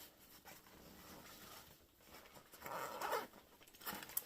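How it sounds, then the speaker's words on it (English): A zipper on a backpack pocket, part of hiking gear used on an Appalachian Trail thru-hike, is pulled open in quiet rasping strokes, with soft rubbing of fabric, close and faint. "And let's get in the zipper."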